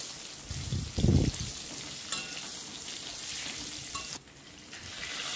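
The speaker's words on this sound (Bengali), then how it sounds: "এইবারে ঢাকাটা তুলে আবারও আমি খুব ভালোভাবে ভেজে নেব।" Potatoes and pointed gourd fry in hot oil in an open pan, a steady close hiss of sizzling that swells into a louder crackling burst near the start, then settles back to an even frying sound with no voices.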